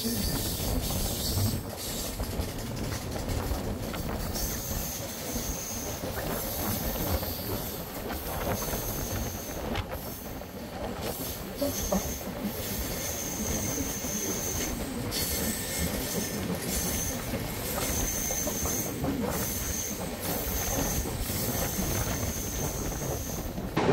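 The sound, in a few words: Duronto Express passenger train running, heard from sleeper class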